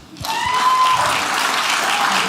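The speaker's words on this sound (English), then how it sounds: "Can you clap?" Comedy club audience bursts into loud, dense clapping that starts abruptly and holds steady, with a few voices calling out over the applause.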